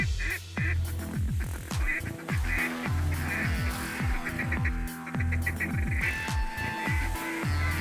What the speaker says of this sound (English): Thousands of ducks were surrounding us at this point.